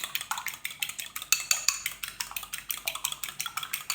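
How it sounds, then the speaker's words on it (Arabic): A whole egg is beaten by hand in a bowl, with rapid, evenly spaced clicks and taps of the utensil against the bowl, close and crisp, with no voices. "نخلط البيضه كامله مع بعض كما تشوفوا"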